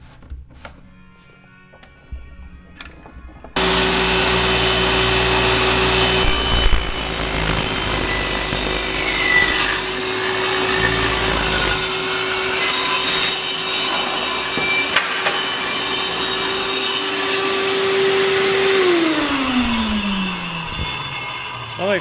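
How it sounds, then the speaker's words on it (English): A power saw cutting MDO plywood spacers, starting abruptly after a few quiet seconds, then a loud, sustained whining cut with rasping wood noise for about fifteen seconds before the motor winds down. "It's time to cut some spacers. Found some drops of this MDO plywood. Set up the saw."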